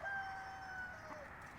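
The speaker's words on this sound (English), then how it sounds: "we got some hungry chickens coming after us" Hungry backyard chickens, a faint rooster-like crow and soft clucking heard from a distance under steady outdoor background noise, with no talking.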